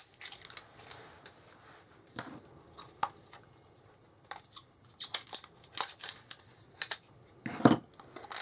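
Crinkly rustling and sharp crackles of new packaging being opened around a stamping bench with a new Memento ink pad, coming in irregular bursts close to the mic with no talk.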